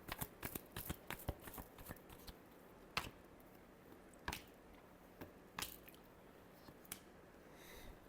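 Deck of cards being shuffled during a tarot reading: quick bursts of soft riffling and snapping, close and quiet, thinning into a few sparse flicks.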